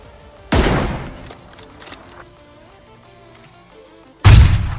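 Two sharp, loud sniper gunshots from the video game PUBG crack about four seconds apart, with only faint rustling and low background noise between them.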